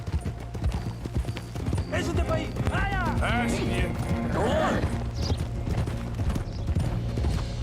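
Horse hooves clop at a steady riding rhythm in the video game Red Dead Redemption 2, close and continuous, while people talk over them and a horse whinnies.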